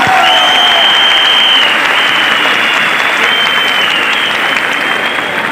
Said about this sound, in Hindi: से जोरदार तालियां होनी चाहिए।